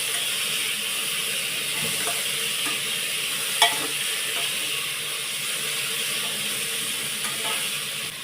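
Peeled potato pieces fry in a pan for moong dal khichdi, a steady broad sizzle with occasional faint scrapes and one sharp clink, no talking.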